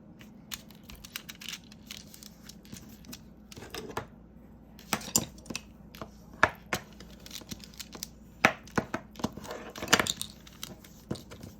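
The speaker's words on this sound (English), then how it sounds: "Line this up, fold it like it's supposed to be folded." Paper is folded and creased by hand while making a junk journal envelope, with soft crinkling and sharp tapping and rustling clicks at an uneven pace, close and fairly quiet.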